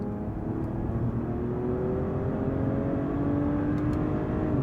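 A 2024 Mercedes-Benz E450 accelerates in a steady, muffled drone heard from inside the cabin. Engine tones rise in pitch and then drop back at each gear change, with road and wind noise underneath.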